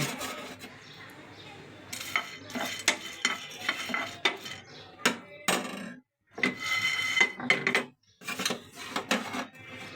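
Whole spices for masala tea being stirred and lightly warmed in a pan for grinding: close, irregular clinks and scrapes of a utensil against the pan, coming in uneven bursts with a few brief pauses.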